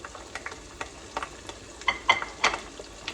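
Green chillies and curry leaves frying in oil with urad dal for a spinach dal fry, a faint steady crackle broken by scattered sharper pops and spatters that grow livelier toward the end.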